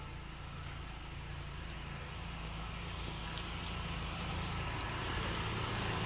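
The engine of a used 2015 car idles smoothly and quietly, a low, even hum holding steady for several seconds with no talking over it.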